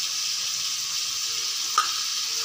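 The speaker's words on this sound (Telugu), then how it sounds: "కొంచెం దానికి నూనెలో వేగే వరకు, పచ్చివాసన పోయే వరకు వేయించుతున్నానండి" Ginger paste and tomato fry in oil for idli sambar, giving a steady, close sizzling hiss with a brief clink of a utensil near the end.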